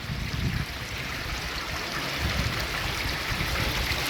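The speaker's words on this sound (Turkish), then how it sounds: "Sular fevkalade akmakta." Water pours steadily from the many spouts of an 18-spout village fountain in autumn, a continuous close rushing splash with no pauses and no voices.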